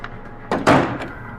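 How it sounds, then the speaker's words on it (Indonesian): Someone raps on a house door during a horror film scene: a couple of dull, close thumps against the wooden door in an otherwise quiet room, no voices. "Siapa ya kira-kira yang ketok pintu ya?"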